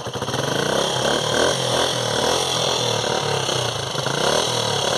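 A motorcycle engine runs loud and close, revving continuously with a throbbing, rough mechanical drone and no pauses.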